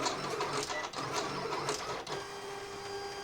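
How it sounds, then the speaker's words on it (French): A Silhouette cutting machine cuts cardstock with a steady mechanical whir and rapid pulsing carriage movements, nearby and continuous, briefly dipping before resuming. "je mets toujours ces réglages sur ma silhouette et là du coup voilà, je vais la laisser découper"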